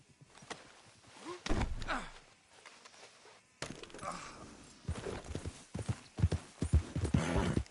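Horse hooves clip-clop in Red Dead Redemption 2, a close, irregular series of thuds with breathy snorts and other game sounds around them.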